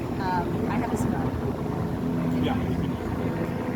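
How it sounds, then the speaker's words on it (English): Helicopters circling over Washington Street in Roslindale, Boston, a steady distant rotor drone under a constant rumble, with brief faint voices nearby. "This whole area is full of helicopters, so we got plenty of helicopters in the sky."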